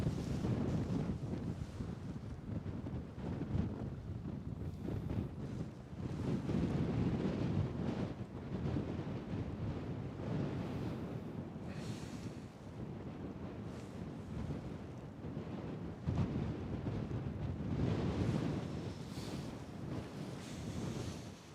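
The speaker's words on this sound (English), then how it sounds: "It's that wind again." Wind blowing at the Kilauea volcano on Hawaii's Big Island during an eruption, a steady loud rush and buffeting on the microphone with surging gusts throughout, no voices.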